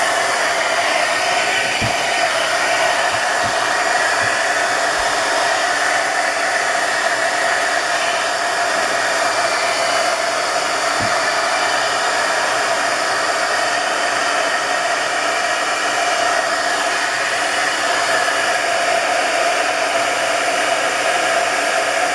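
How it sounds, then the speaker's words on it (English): A heat gun blows hot air on a glossy Christmas craft tag, a loud, steady close roar that runs unbroken for over twenty seconds with a few faint clicks near the start. "I'm going gonna use the heat gun again."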